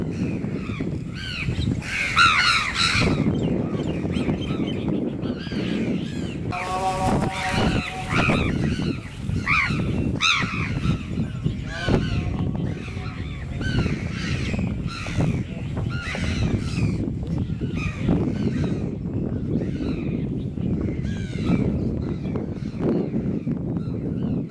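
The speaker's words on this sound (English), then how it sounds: "We've given the rice for the crows" Crows cawing in a noisy flock while being fed rice at dawn in Mandalay, Myanmar, harsh calls overlapping constantly over a loud outdoor rumble.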